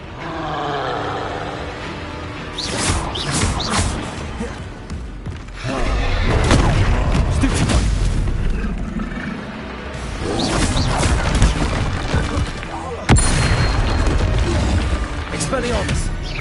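Expelliarmus disarming spells go off repeatedly in the video game Hogwarts Legacy, with loud roaring blasts, crashes and thuds surging in waves and a sharp impact late on, under shouted voices.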